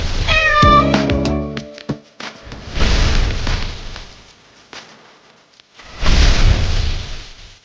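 A cat gives one loud, close, drawn-out meow, followed by rougher bursts of broadband noise and short pauses.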